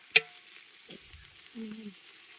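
Chopped onion frying in oil for a village chicken party, heard as a faint, quiet sizzle with a few soft stirring clatters and a brief sharp knock at the start.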